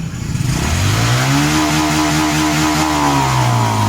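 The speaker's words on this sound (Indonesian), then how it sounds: "kalau kita tarik gas penuh. Nah, di sini seperti telat." Mid-pitched motorcycle engine revved at full throttle, rising and holding with wavering, uneven pitch as it hesitates from a faulty throttle position sensor; loud and close, alone without talk.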